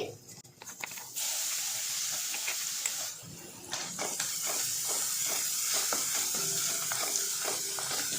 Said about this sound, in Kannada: ಮೆಣಸು ಬೆಳ್ಳುಳ್ಳಿ ಜೀರಿಗೆನ ಇಷ್ಟು ಎಣ್ಣೆಲಿ ಚೆನ್ನಾಗಿ ಫ್ರೈ ಆಗಿದೆ